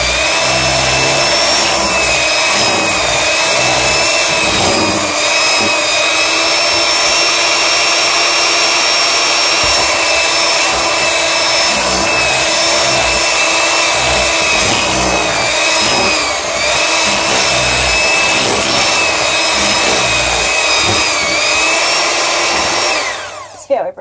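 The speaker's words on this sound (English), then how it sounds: "I think I'm going to use the beater," An electric hand beater whirs steadily and loudly for the whole stretch as it mixes bath bomb mixture for a bath bomb gingerbread house, its high-pitched motor whine holding even before cutting off at the very end.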